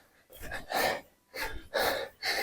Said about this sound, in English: you can see I'm a little out of breath